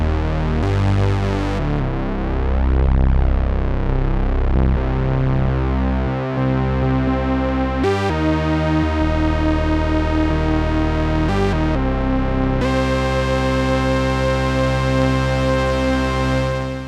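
A Behringer MonoPoly analog synthesizer plays huge, deep bass tones with rich harmonics, a sustained stepping sequence of loud notes with brief breaks and pitch changes, no voices.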